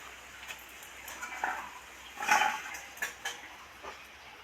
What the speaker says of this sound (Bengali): এইভাবে লম্বা লম্বা আলুগুলো কেটে নিলাম